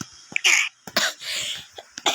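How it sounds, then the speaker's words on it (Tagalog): A person coughs in a few sharp, rough bursts with throaty, breathy edges, close and fairly loud, the coughs separated by short pauses. "At inuubo ako guys."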